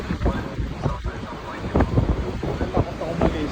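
During a typhoon in Macau, seawater floods inland while strong wind buffets the microphone, with loud gusty roaring and rushing water surging close by.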